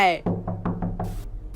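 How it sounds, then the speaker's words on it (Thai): Knocking on a door in the video game Amanda the Adventurer, five evenly spaced hollow knocks in a steady rhythm, close and fairly loud, following a brief voice at the start. "กูเคาะประตูก็ได้"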